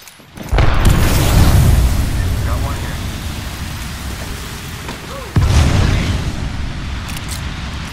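An Arc Star grenade goes off in Apex Legends, two heavy booming blasts about five seconds apart, each followed by a long, loud rumbling crackle, with faint game sounds in between.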